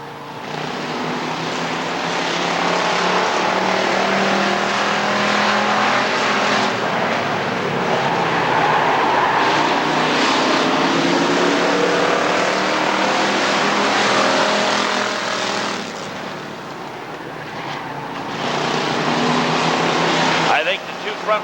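Stock cars racing at Rockford Speedway in 2000, a steady, loud roar of engines running side by side lap after lap with no letup, rising and falling slightly, while a voice talks over it.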